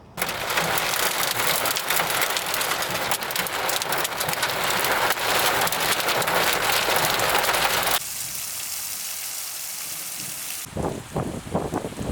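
Hail storm on a morning in Turin, a loud, dense drumming of stones on surfaces for about eight seconds, then a softer steady patter, ending with a few sharper knocks.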